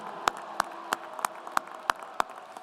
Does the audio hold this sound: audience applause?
yes